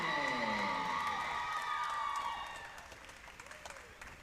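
Crowd at a University of Montevallo men's basketball game against Shorter applauds and cheers a senior from the dance and cheer squad. Loud, dense clapping and whoops with some tonal sustained sounds, fading gradually toward the end.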